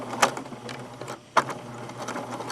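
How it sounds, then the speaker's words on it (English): A sewing machine backstitches gathered fabric in short bursts: two sharp stitching runs, the second following a brief pause, over a quiet room. "So now I am going to backstitch at the beginning."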